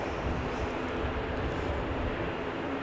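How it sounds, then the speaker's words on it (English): A Qantas airliner departs from Christchurch, its engines a steady, continuous broadband roar held at even loudness throughout, heard alone with no talk over it. "Qantas heading down for a 2-0 departure."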